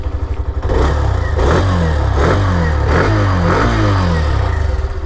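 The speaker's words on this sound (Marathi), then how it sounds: "रेस केल्यावरती मग तुम्ही ऐकलं आहे साऊंड कशी करते बाईक" Close up, a Hero Xtreme 125 motorcycle's 125cc engine is blipped several times in a row, each rev swelling up from a thumping idle and falling back, with no voices.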